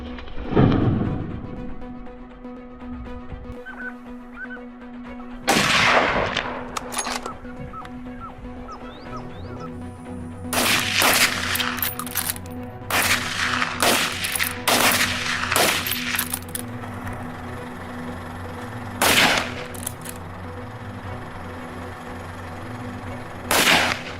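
Wild boar hunters fire sharp gunshots, several scattered cracks of varying loudness, some close and others more distant, over an outdoor background.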